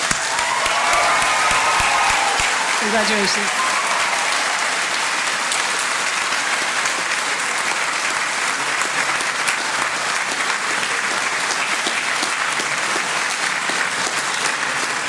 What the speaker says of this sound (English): So I'd like you to give yourselves a huge round of applause and outshout them before they get a chance.